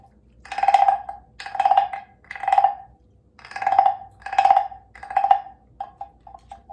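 The largest wooden frog percussion instrument, scraped with a mallet in six clear, evenly spaced ratchety croaks at a fairly low pitch, close and alone, ending in a few lighter taps.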